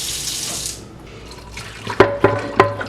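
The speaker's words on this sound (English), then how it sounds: "we are ready to bring it over to the sink and wash it with hot water" Hot water from a faucet runs into a sink over a cast iron skillet, starting as a hissing stream and then giving way to a few sharp clanks and taps of the pan.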